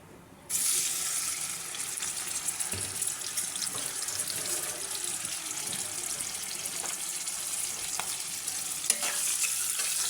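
Two prawns, seasoned with turmeric and salt, start frying in a pan: a sudden, loud sizzle kicks in and holds steady, with occasional stirring clicks.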